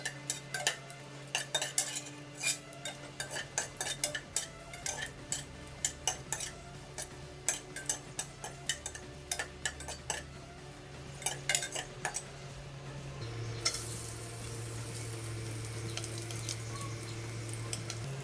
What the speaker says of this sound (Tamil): கடாயில் 1 டீஸ்பூன் எண்ணெய் விட்டுட்டு அது சூடானதும் நம்ம எடுத்து வச்ச வரமிளகாய் எல்லாத்தையும்